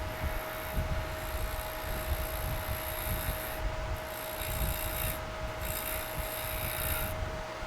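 A round negative-rake carbide tool cuts a resin pen blank on a lathe: a continuous close rasping scrape over a steady motor hum, with slight pulsing as the cut varies.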